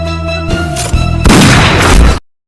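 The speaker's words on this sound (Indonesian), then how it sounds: "Wilson menabrak Kak Hua hingga terpental dan ditambahi tembakan oleh Donnie." Gunfire and impact noise from the action film Flash Point, heavy and loud, rising into a dense booming blast that cuts off abruptly to silence.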